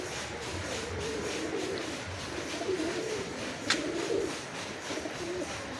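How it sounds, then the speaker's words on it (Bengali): Low, throaty cooing from a male Madras pigeon at a loft, repeated in rolling phrases for several seconds with faint shuffling nearby. "এক ম্যাড্রাস মদ্দা পায়রা,"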